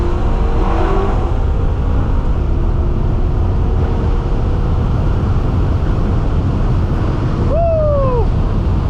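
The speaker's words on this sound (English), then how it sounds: "Let's downshift one more time." A BMW M6 with an aftermarket exhaust downshifts and accelerates, a steady, close engine roar buried under heavy wind buffeting, with a short sliding tonal sweep near the end.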